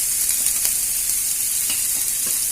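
Chopped onion, crushed ginger, green chilli and curry leaves sauté in a pan, giving a steady, close hiss of sizzling oil with faint stirring scrapes and no voices.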